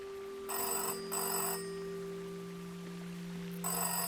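An old-style telephone rings in the video game Season: A Letter to the Future: two quick bell bursts, a pause, then a third burst, clear and moderately loud over a steady low electronic hum.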